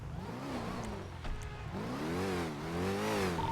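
A car in GTA V roleplay passes by with a rising and falling engine whine, revving up close and then swelling again, loud and clear with no talk over it.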